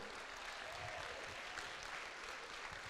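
A church congregation applauds during a Pentecostal sermon, with soft, distant, continuous clapping blending into a faint wash of sound.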